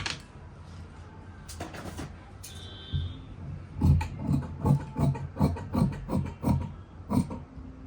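Scissors cutting cloth for the front panel of a coat-collar kurti, a run of rhythmic crisp snips and rasps roughly every half second, close and fairly loud, with a few scattered handling noises before it.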